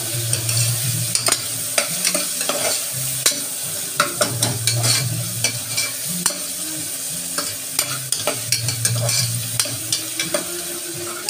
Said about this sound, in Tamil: தக்காளி வதக்கியில் நான் புதினா கொஞ்சம் போட்டுக்கிறேன். நீங்களும் புதினா போட்டுருங்க. நல்லா வதக்கிக்கோங்க.